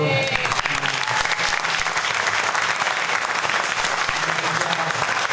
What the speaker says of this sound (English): let's give Piper a round of applause for the video